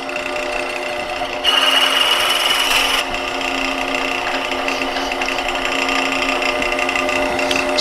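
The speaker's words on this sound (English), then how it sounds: "simply continue drilling as we have before" A steady whirring lathe runs with a drill bit grinding into wood, a harsher scraping burst partway through, continuous machine hum throughout.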